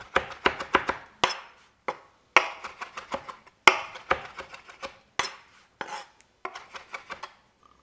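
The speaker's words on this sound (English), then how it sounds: "And I'm just going to mince this up." Knife blade striking a cutting board as fresh oregano leaves are minced for a Greek spatchcock chicken marinade, a quick irregular series of close, sharp chopping taps with brief pauses, no talking.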